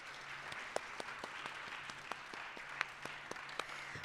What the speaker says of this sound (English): So let's give Dr. Ramalho another round of applause.